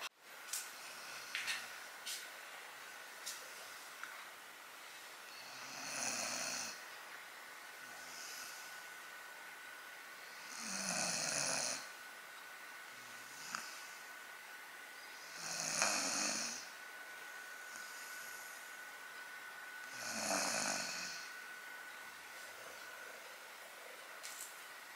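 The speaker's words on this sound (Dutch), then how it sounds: "zoals jullie kennelijk hebben gehoord, ligt die te snurken." Someone nearby snores slowly and steadily, with about five long breathy rasps spaced roughly five seconds apart over a faint background hiss.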